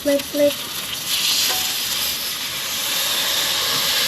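A thick tomahawk steak sizzles loudly in a hot pan just after being flipped, a broad, steady hiss of frying fat that swells and holds, with a brief clatter at the start and no talking.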